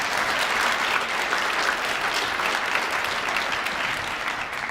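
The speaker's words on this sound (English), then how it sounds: "How about another round of applause?" Dense, steady applause from an audience fills the whole stretch, loud and close, with no pauses or talk over it.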